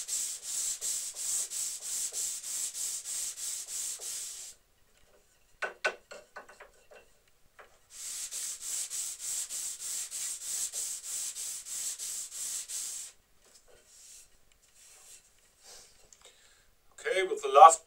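An oak or unknown wooden piece is hand-sanded to 240 grit in two long rhythmic runs of close, scratchy back-and-forth strokes, separated by a quiet pause with light knocks and handling of the wood.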